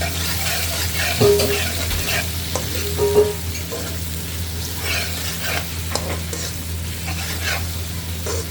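Onions sizzle steadily in a pan on a wood-fired chulha while a spoon stirs and scrapes at intervals, close and continuous, for a korma in Pakistan.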